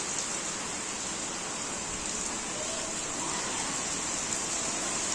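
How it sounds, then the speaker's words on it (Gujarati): Heavy unseasonal summer rain pours down in a Gir Somnath village, a dense even hiss of drops on surfaces that stays steady and fairly close throughout, with no one speaking. "કેવો આવે છે વરસાદ જો ઉનાળાની સિઝનમાં ભર ચોમાસું બેસી ગયું એવું લાગે છે"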